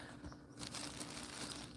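A plastic bag crinkles and rustles up close while green plantains are packed into it, a steady crackling texture that swells after the first half second and carries on without talk.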